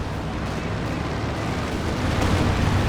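Dense rumbling explosions from a bombing strike and bunker buster in Company of Heroes 2, a continuous loud roar of blasts with no gaps.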